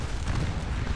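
A massed musket volley in Scourge of War: Waterloo, heard as a dense, continuous rumbling roar of many shots blending together, loud and even through the whole second.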